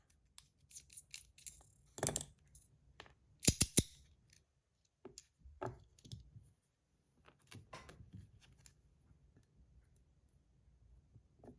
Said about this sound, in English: now let me see what it sounds like with the rubber inserts